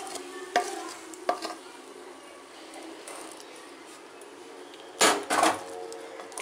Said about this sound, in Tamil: ஒரு பிளேட்டில் எண்ணெய் எடுத்து போட்டுக்கிட்டு அதை கொட்டிக்கலாம்.